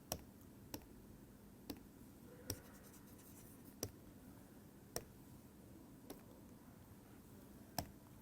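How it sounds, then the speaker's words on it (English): A pen scratches and taps faintly on a page at a steady pace, with crisp ticks every second or so, while a lecturer works through a spinor expansion. "Let me write this in a new page because it is an important expansion."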